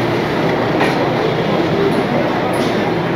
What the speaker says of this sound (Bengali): আমাদের সরাইঘাট এক্সপ্রেস তার নির্ধারিত হাওড়া স্টেশনের 9 নম্বর প্ল্যাটফর্মে ঢুকছে